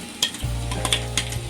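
Boiled sprouted gram stirred with fried onions in a pan, with a spoon scraping and clinking a few times over a low, steady hum and faint sizzle, close and brief.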